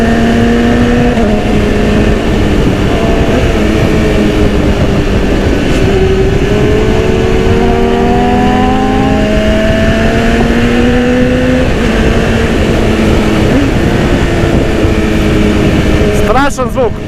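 A 2010 BMW S1000RR motorcycle engine drones continuously while riding, with rising and falling pitch sweeps as it shifts through gears, loud and constant against rushing wind, ending with a brief rattle.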